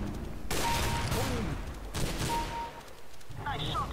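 Gunfire in the game CS:GO during a sniper round, with loud close bursts of shots and echoing blasts in two main volleys, while voices talk over the action.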